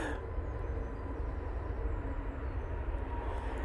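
An easyJet Airbus A320neo rolls down the runway for takeoff, a steady broadband engine roar with a deep low-frequency rumble that holds constant throughout, distant and continuous with no voices.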